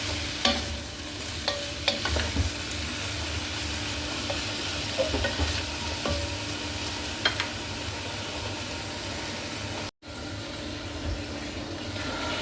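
A utensil scrapes and clinks in a pan over a constant sizzling background, with scattered stirring clicks, then a brief dropout near the end.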